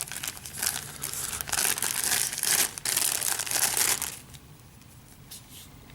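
Plastic and cardboard packaging of a M.A.S.K. Rhino toy is torn open, giving several seconds of loud, close crinkling and crackling that fades to quiet rustling near the end.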